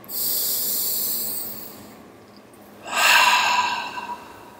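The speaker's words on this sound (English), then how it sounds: "Take a deep breath." A slow, deep breath drawn in and let out, airy and close, with a short hush between the long inhale and the exhale.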